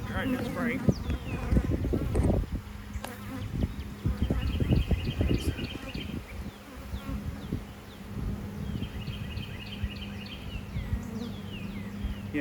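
Honey bees buzz around an open hive during a mid-May inspection, a close, continuous drone with scattered knocks and handling noises, and a person talks over it at times.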